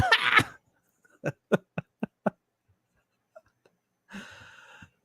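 A single short sneeze bursts out near the start, then a quick run of sharp puffs and breaths follows before a short breathy sound at the end, all close and fairly quiet.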